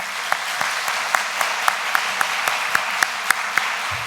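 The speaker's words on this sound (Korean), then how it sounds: "박수 한번 합시다." Congregation in a church applauding together: steady, dense clapping from a crowd throughout, fairly close, with a few sharper individual claps standing out and no talk.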